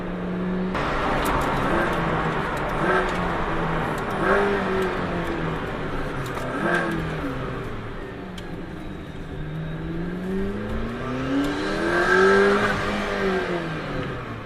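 McLaren P1 sports car engine revving steadily and loudly with a high shrieking whine, rising and falling in pitch over continuous road noise, with no talking.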